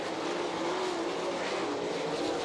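Sprint race cars roar around the Attica dirt track on the final lap of an All Star Circuit of Champions race, a loud continuous engine drone filling the whole moment with no breaks.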